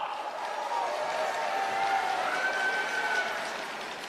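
A crowd at a Korean political party gathering gives steady, moderately loud applause, a continuous wash of clapping with a murmur of crowd noise and no clear speech.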